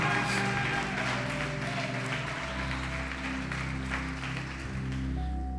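A church congregation applauds during a sermon. The clapping is steady and moderately loud, with a low hum and faint sustained tones beneath it.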